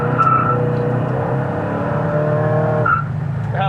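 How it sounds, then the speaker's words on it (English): A 1968 Pontiac GTO pulls hard under steady engine drone, its tires giving a brief chirp near the start and another short squeal around the shift into second gear. "I like that when it's chirps and going into second."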